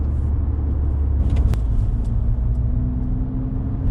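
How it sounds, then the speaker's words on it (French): A Mercedes CLA 45 AMG Shooting Brake engine, 360 horsepower, rumbling loudly from inside the cabin under hard acceleration in sport mode, a steady low drone with a slight rise in pitch as it pulls harder. "Donc là en mode sport, quand on commence à accélérer"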